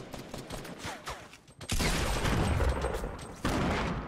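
Gunfire in the Fortnite battle royale game: a burst of rapid shots lands loud at once and holds, with a second burst cutting in near the end, after quieter game noises and faint scattered pops.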